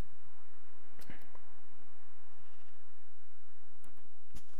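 Sheep bleating in Minecraft, faint and quiet, with a few short bleats and soft clicks over a low game background, no talk.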